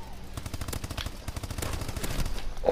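Rapid automatic gunfire from the video game Call of Duty: Advanced Warfare crackles in quick, evenly spaced bursts, loud and close, building slightly at the end with no voices.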